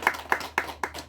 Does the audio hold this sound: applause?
yes